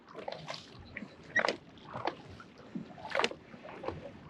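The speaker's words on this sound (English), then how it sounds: "This kayak definitely isn't moving like normal." A heavily loaded kayak is paddled across open water off St. George Island, Florida, with a few separate splashy paddle strokes and soft sloshing, fairly close and quiet.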